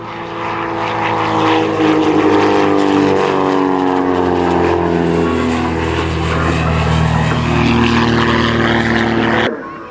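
A Skybolt aerobatic propeller biplane roars low and close at an airshow, its engine note steady and loud, with slight pitch shifts as it passes, continuing for the full stretch.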